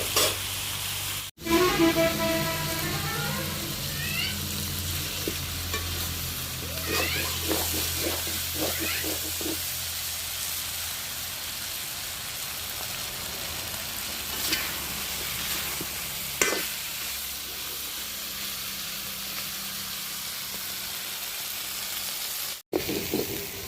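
Vegetables sizzle steadily in a hot pan while a utensil stirs and scrapes at intervals, the frying hiss continuous and close, with a cat meowing briefly early on.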